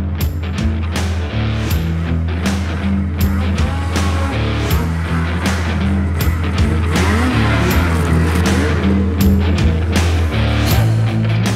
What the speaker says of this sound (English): Today we're riding the 2024 Ski-Doo Summit X.